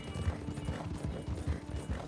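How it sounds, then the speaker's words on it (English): An Appaloosa horse's hooves clip-clop in Red Dead Redemption 2 while it is ridden. The steady, fairly faint rhythm repeats across the clip as a rider moves along. "as John gives me a chance to ride this horse"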